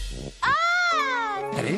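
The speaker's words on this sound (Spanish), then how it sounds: "¡Gato!" A single cat gives one long, clear meow with a rising then falling pitch, close and loud, preceded by a brief low sound.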